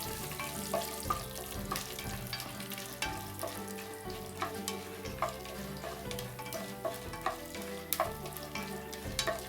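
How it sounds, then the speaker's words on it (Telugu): Chana dal, urad dal and peanuts frying in oil in a pan for cashew upma, a steady close sizzle with scattered stirring scrapes and pops throughout, no talking. "పచ్చి శనగపప్పు, 1 టేబుల్ స్పూన్ మినప్పప్పు, కొద్దిగా వేరుశనగపప్పు వేసి వేయించుకుందామండి"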